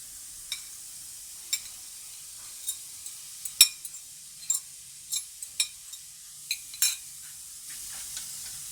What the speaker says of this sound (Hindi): अब मैं इसमें जो चिकन श्रेड किया था उबाल कर, वो डालूंगी।